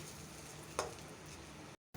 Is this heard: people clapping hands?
no